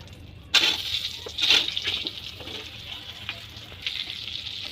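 Cut brinjal pieces seasoned with a little salt and turmeric hit hot oil with a sudden loud sizzle, then keep frying in a steady crackling hiss with a few stirring clatters and a fresh burst near the end.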